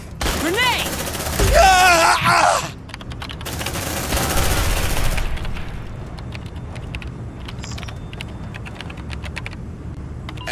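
Suppressive gunfire in Aliens: Dark Descent: rapid, dense bursts of automatic fire with shouted voices early on, fading to scattered clicks and shots.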